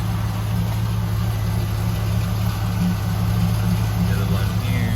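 A 4th-gen Pontiac Firebird Trans Am engine idles steadily nearby with a constant low rumble while someone talks over it.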